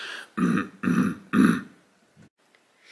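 Three evenly spaced, forceful throat-clearing bursts from a single person, close and loud, followed by a short quieter grunt and then near silence.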